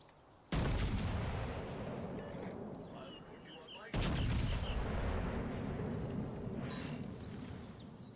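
Naval gunfire from a destroyer in World of Warships: Legends, booming in two loud, sustained volleys with rumbling tails, the second arriving a few seconds after the first, set against a continuous noisy battle backdrop.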